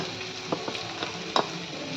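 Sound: onions frying in oil

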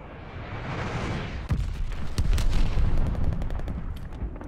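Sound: glide bomb attack in video game Call of Duty: Vanguard

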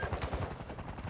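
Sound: shotgun firing in a video game

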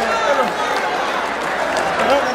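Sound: crowd applause at a rodeo

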